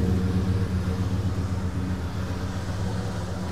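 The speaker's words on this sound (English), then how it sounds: "Motor sounds great." A 1968 Ford LTD Brougham hardtop with its 390 V8 idling: a steady, close, low rumbling drone holding even throughout with no talk.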